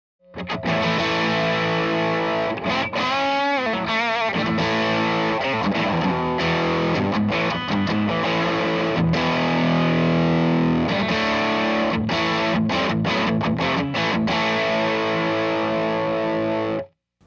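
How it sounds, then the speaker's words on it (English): An electric guitar played through a Barber Edge Hog distortion pedal, giving a loud, harsh, saturated tone with sustained chords and quick choppy strums that run without a break for about seventeen seconds, with no talking. "So immediately, way more edge, way more harsh distortion."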